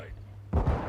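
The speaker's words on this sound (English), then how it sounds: "Throwing flash grenade." A flash grenade detonates in Call of Duty Modern Warfare II, a sudden close, heavy bang that cuts in halfway through after a quieter tonal stretch with a hint of voice.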